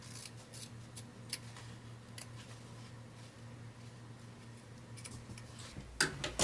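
Sewing scissors snip fabric diagonally to open a zipper pocket, giving a series of faint, crisp clicks scattered over a low steady hum, with a louder cluster of snips near the end.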